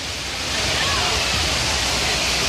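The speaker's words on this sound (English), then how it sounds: "Complete with waterfall." Waterfall cascading at the Rainforest Cafe in Animal Kingdom, a steady loud broadband rush of falling water filling the space throughout, close and continuous without pause.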